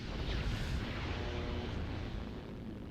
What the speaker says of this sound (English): the sound that robots tend to make, which is a kind of explosion.